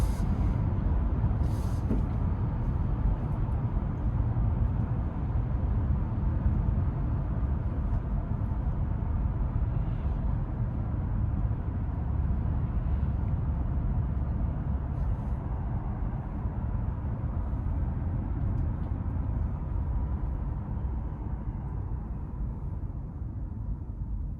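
Cabin noise inside a 2022 Honda Passport while driving: a steady, moderately loud low road and tire rumble with a soft wind hush, continuous and even throughout, no talk.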